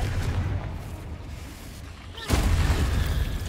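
The Confringo blasting spell goes off in a Harry Potter video game as a muffled rumbling boom, then a sharper louder burst partway through with a sustained, heavy roar afterward.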